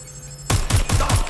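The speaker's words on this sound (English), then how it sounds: "Shots fired!" After a brief quiet lead-in, a loud burst of gunfire erupts in the video game Watch Dogs: Legion, with four rapid, evenly spaced shots close by.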